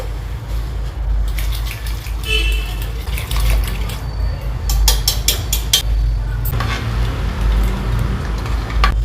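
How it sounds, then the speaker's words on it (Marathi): Water poured into a thin dal batter for dhokli, a steady splashing pour over kitchen background noise, with a few brief louder clinks and splashes, no talking. "अजून आपल्याला थोडंसं पाणी टाकायचं."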